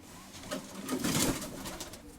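Pigeons coo close by, a soft, low, rolling call that swells and fades over about two seconds.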